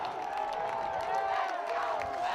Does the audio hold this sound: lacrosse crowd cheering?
yes